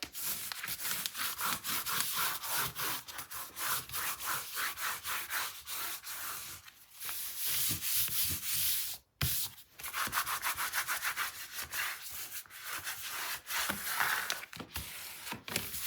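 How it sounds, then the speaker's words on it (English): Steady rubbing and scraping of a burnishing tool pressed firmly over paper on a 9 x 9 mini album, close and continuous with brief pauses. "Let's burnish this."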